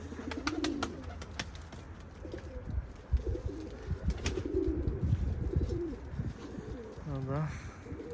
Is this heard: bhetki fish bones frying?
no